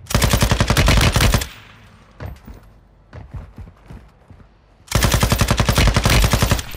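Sakin machine gun in a video game firing two long, loud bursts of rapid automatic shots, separated by a quieter stretch of scattered clicks and handling noises.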